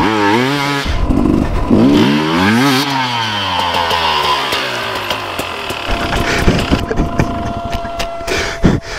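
Sherco 300 enduro motorcycle being ridden, its two-stroke engine loud and close, rising and falling in pitch through revving bursts with sharp throttle changes and crackling toward the end.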